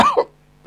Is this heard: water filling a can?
no